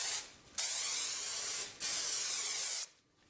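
Spray glue is sprayed onto the felt strips of a Yamaha PSR-EW300 keyboard in two long, even hissing bursts with a short pause between them, close up and otherwise quiet.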